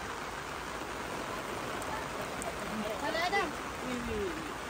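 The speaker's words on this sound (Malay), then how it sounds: "Kawah Putih hujan lebatnya." Heavy rain pours steadily at Kawah Putih, a volcanic crater lake in Indonesia, a dense even hiss filling the whole moment while voices chatter faintly over it.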